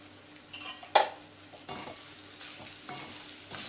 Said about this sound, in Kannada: ಹಾಕೊಂಡು ಒಂದು ಸ್ವಲ್ಪ ಬಾಡಿಸ್ಬಿಟ್ಟು ಒಂಚೂರು ಎಣ್ಣೆ ಹಾಕ್ತೀನಿ